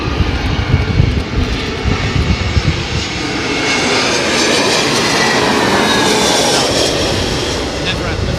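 Airliner landing at London Heathrow in a crosswind, a broad continuous jet roar that swells and holds steady at close range, with speech heard over the engine noise in the first seconds.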